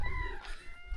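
Chickens in a residential area along a hiking trail, heard as a brief faint cluck or two over quiet outdoor background, with no talk.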